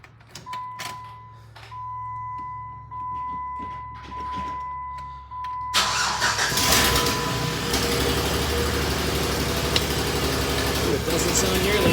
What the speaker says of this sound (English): So let me go crank it up real quick for you.